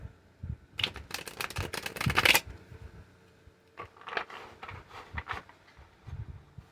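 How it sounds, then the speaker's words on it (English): Someone shuffles a large deck of tarot cards nearby: quick riffling bursts and soft card clicks come in two uneven rounds with a short pause between them. "It's hard to shuffle."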